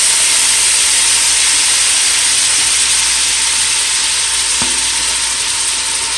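Shrimp sizzling loudly in a hot pan as marinating liquid is poured in, a constant, dense hiss of frying and steam throughout, with a single faint knock partway through.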